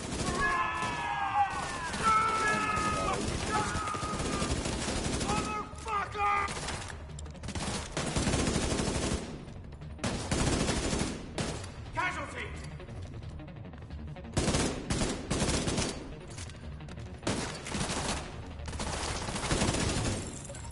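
Gunfire in The Division 2 comes in loud, dense bursts of rapid shots separated by short gaps, with a player's voice shouting in between.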